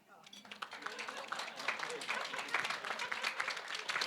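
Wedding reception guests break into applause, a scattered round of clapping that builds and carries on steadily, heard from across the room with voices murmuring underneath.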